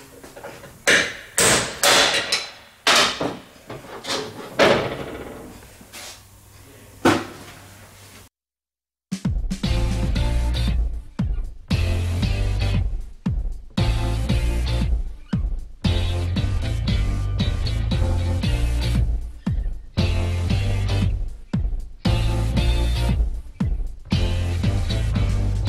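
Loud, steady mechanical pounding and grinding from a press pressing out a transmission pump bushing from a Dodge Ram 1500, running continuously after a brief silence, with sharper knocks and clatter at the start.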